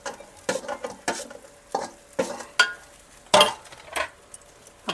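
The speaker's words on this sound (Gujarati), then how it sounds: "આપણે ભાત આમાં ઉમેરીને અને જો આપણે આમ મિક્સ કરી લેવાના છે" Cooked rice is stirred into a sizzling spiced tempering in a pan to make masala vagharela bhat. A spoon scrapes in about nine rhythmic strokes over a light, continuous sizzle, with no talk.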